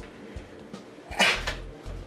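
A dog sneezes indoors, one short sharp burst near the middle, close and fairly quiet, surrounded by faint small movement sounds.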